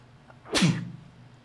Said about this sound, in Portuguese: Ele é gelado, até espirrei.